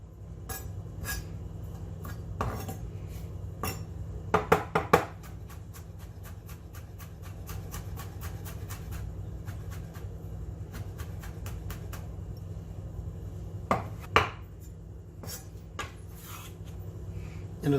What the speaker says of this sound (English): Start off with mincing up the garlic.